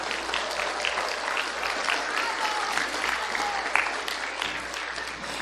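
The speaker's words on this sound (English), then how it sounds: "Let's give them another round of applause." Steady applause from an audience at a school Christmas program, dense clapping filling the whole stretch at an even level with faint crowd murmur and a few brighter voices.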